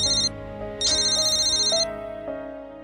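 A telephone rings with a bright, electronic multi-tone ringtone that repeats steadily and loudly, with no voices.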